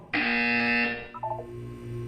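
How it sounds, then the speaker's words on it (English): Buzzer in the Portal 2 video game: a loud, sustained electronic tone lasting under a second, followed by softer lingering tones. "When you hear the buzzer, look down at the floor"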